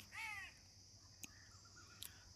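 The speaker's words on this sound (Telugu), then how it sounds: "ఈ కాకులు అరుస్తూ ఉన్నాయి ఊరికే" A single crow caws loudly nearby, then only faint background noise and a couple of soft clicks follow.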